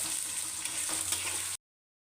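Onion and cumin frying in oil, a steady close sizzle with faint stirring, cutting off abruptly partway through.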